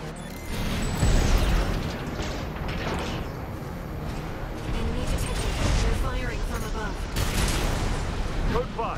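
Repeated heavy gunfire and blasts from enemy warships firing from above at an old spaceport in Armored Core VI, thudding explosions and mechanical clatter mixed under game radio voices.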